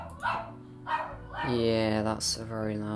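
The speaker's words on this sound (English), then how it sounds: "Yeah, that's a very loud dog." A loud dog barks and yips nearby in a few bursts, mixed with a person's voice talking over it.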